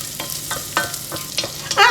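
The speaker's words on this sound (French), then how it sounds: "Maintenant, je mets du jambon cuit. Voilà. Et je le fais revenir" Cooked ham stirred and browning in a pan, giving soft scraping strokes with a light sizzle that swells toward the end, close and fairly quiet, without voices.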